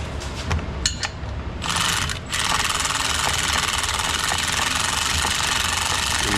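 Socket ratchet turning a fastener on a ZF 8- or 9-speed automatic transmission, a few quick clicking ratchet bursts followed by a loud, steady whirring mechanical noise.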